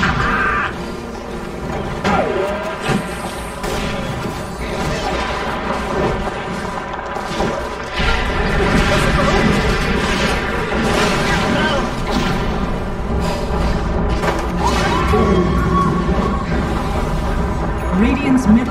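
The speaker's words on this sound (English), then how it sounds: "Radiant's middle tower is under attack." Dota 2 battle at the middle tower, with dense booming impacts, shots and explosions in a steady loud barrage, broken by repeated game announcer voice lines.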